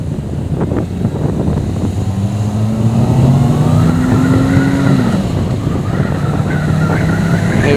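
Motorcycles ride in staggered formation on a closed motorway at about 50 mph, a loud steady engine drone with rising and falling tones under heavy wind rush.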